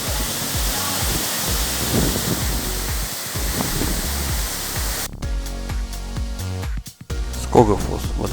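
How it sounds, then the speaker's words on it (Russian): Skógafoss waterfall in Iceland roars as a steady broadband wash of rushing water, then cuts to quieter ambience with voices and background music. "Скогофос – водопад, который невозможно пропустить"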